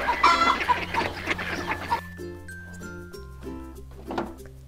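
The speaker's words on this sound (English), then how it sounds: "Let's feed the hungry chicken" A chicken clucks and squawks near the start, followed by softer tonal beeps and music-like notes.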